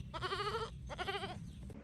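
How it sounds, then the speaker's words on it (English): A hungry baby goat in a garden gives two short, close, wavering bleats, separated by a brief pause. "From the garden, the desperate ba-ba of a hungry baby goat echoed."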